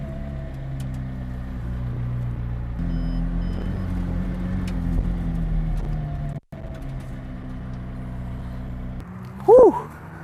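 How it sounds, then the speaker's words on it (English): A Pagani Huayra sits idling, a steady low engine rumble that holds for several seconds, drops out briefly, then resumes, with a short sharp sound near the end. "We'll just let it idle"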